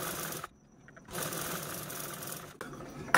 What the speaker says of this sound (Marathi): ही झीप स्टिच करून घ्यायची आणि यावरती टॉप स्टिच पण देऊया